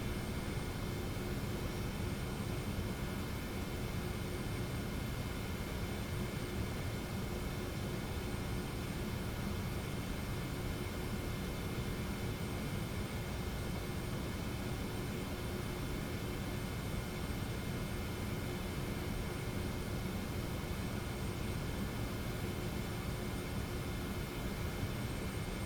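A Delta Boeing 717 (TFDi model) climbs out of LaGuardia in the Prepar3D flight simulator, its jet engines giving a steady, loud broadband roar that stays constant throughout with no voices.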